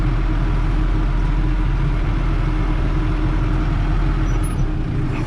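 A farm tractor's engine idles loudly and steadily nearby, a constant deep diesel rumble with a rough low throb that continues unchanged throughout.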